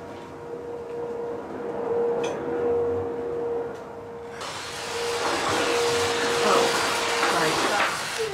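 A household vacuum cleaner drones steadily indoors with a constant whine, growing louder and broader about halfway through as it moves closer, with no voices heard over it.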